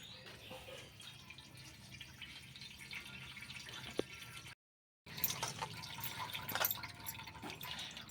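Cold tap water splashes and drips steadily over Maggi noodles as they are rinsed, a continuous close watery hiss with a brief cut to silence midway before the flow resumes.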